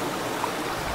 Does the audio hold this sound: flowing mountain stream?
yes